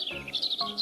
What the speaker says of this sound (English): Robin, cheerful chirp.